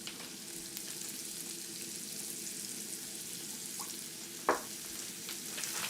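Vegetables sizzle and fry quickly in a hot pan at a Korean street-food cooking demo, a steady low hiss with a sharp clatter of stirring near the end.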